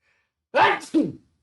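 A single sneeze from a lecturer in the middle of a class, a sharp two-part burst, loud and close, against otherwise silent surroundings.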